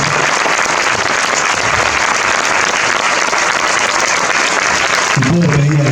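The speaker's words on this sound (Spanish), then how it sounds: "Fuertes aplausos." A dense, sustained wave of audience applause fills the room at a book presentation, loud and continuous, with a voice speaking over it right at the end.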